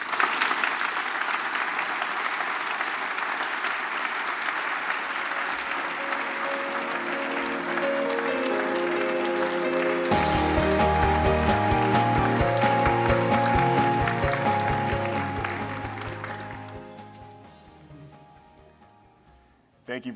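An audience applauds to welcome Ontario transportation minister Prabmeet Sarkaria at a speaking event, steady, full clapping sustained for about fifteen seconds before fading out, with a voice cutting in at the very end.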